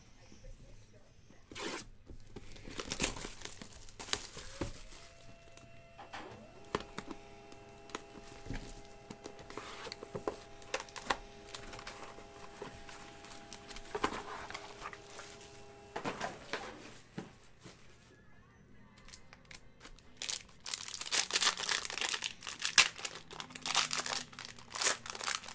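Panini Prime hockey card packs from the 2012-13 set are torn open by hand, with repeated sharp rips and dense plastic wrapper crinkling that come in bursts, close to the ear, under occasional talk.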